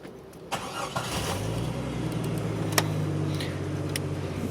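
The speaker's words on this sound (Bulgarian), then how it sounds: "двигателя работи" A car with an automatic transmission cranks and fires up, then settles into a steady, close idle hum with a few light clicks, and no one speaks.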